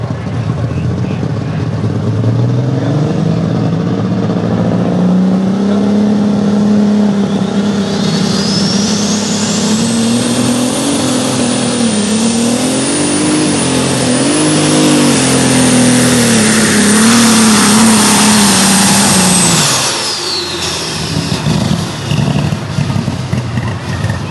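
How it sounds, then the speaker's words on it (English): A Cockshutt 2250 pulling tractor running on alcohol fuel roars loudly and steadily, its engine pitch rising and wavering under strain for about twenty seconds before cutting off abruptly, with a high whine above it. "this tractor's a beautiful Cockshut 2250 running on"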